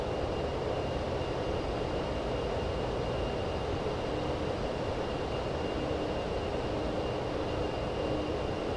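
An Avro Vulcan nuclear bomber in Microsoft Flight Simulator drones with a constant, heavy jet-engine roar, a broad steady rumble with a faint high whine, unbroken and loud from start to end.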